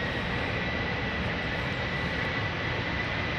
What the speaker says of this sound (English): we'll see this Airbus A330 from KLM to Sint Maarten take off